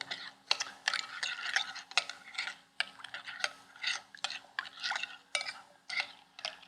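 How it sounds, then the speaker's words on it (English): Lemon juice and olive oil stirred together into a pork marinade, giving close, steady scraping and clinking strokes of a utensil against a bowl, repeating in quick irregular bursts with no talking. "And we'll stir this together."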